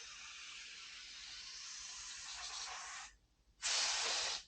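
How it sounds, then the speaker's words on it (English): An aerosol spray can shoots cleaner into a chainsaw bar in two close bursts, a long steady hiss of about three seconds, a brief pause, then a shorter, louder burst. "So we're just going to spray a little bit of"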